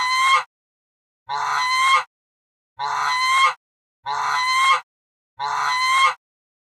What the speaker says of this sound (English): It's a crane. What a graceful bird.